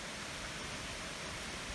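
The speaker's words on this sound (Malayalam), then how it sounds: "ഇത് ചെറുങ്ങനെ വെള്ളം ഒഴുകുന്നു." Water pours steadily at the Nariampara triple waterfalls in Kattappana, Idukki, a close, dense, unbroken rushing hiss with no voices over it.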